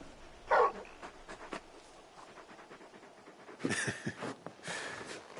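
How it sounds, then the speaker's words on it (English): Soft canine whimpers and panting from the large hound companion in the Final Fantasy XVI video game, a few short whines rising over a quiet game soundscape, with a brighter burst near the end. "You're just a big puppy, aren't you? A very big puppy."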